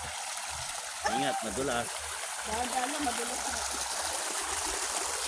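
A mountain stream fed by a spring flows with a steady broadband rush close by, while people talk over it in Tagalog.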